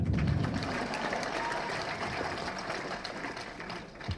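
An audience claps at a Tamil movie audio launch, producing a dense, steady patter of many hands that carries on for several seconds before tapering slightly at the end.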